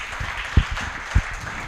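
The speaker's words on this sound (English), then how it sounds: "Another round of applause." Audience at a benefits launch event clapping, a short burst of dense applause with a couple of sharper claps standing out near the front.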